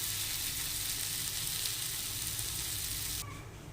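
Spiced potatoes and soybeans sizzle loudly in a pan with a dense, even hiss that suddenly drops and softens near the end as a little water goes in, leaving a quieter bubbling simmer.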